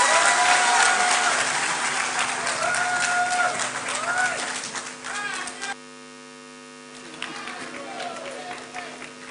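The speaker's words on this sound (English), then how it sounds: "A better round of applause for Her Excellency Professor Nana Jane Opoku Agyeman." Audience clapping after a speech at a matriculation ceremony in Ghana, a busy spatter of hands over a steady electrical hum, with faint voices mixed in; the clapping drops out abruptly midway, leaving the hum, then returns more thinly.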